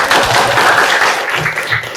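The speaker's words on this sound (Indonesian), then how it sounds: "Tepuk tangan buat kita semua." Loud, dense applause from a class group, steady clapping filling the whole two seconds.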